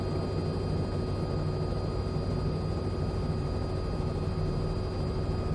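Robinson R66 helicopter hovering in a flight simulator game, a steady droning engine and rotor hum with constant tonal whine, even and unbroken, no talking.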